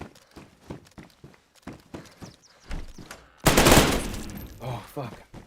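Bursts of automatic gunfire in the DayZ video game, a rapid rattling volley that swells loud and close after a series of sharp single footfall-like hits, with a voice breaking in at the end.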